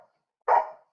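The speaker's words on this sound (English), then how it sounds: "Sorry about my dog." Single short dog bark, close and fairly loud, in an otherwise quiet room.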